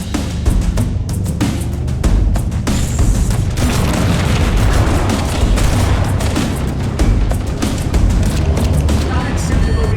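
Engine reactors exploding in the Halo video game, a dense run of loud booms and crackling blasts close up, with speech heard through the barrage.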